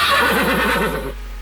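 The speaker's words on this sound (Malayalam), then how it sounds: "വികൃതി കുതിര" A single horse gives one loud, close whinny with a wavering, quavering pitch that fades off near the end, with no other sound around it.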